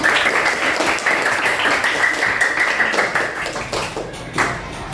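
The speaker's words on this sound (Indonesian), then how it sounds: "tepuk tangan dulu untuk kita semua ya" A group claps steadily for several seconds, dense and close, thinning slightly toward the end.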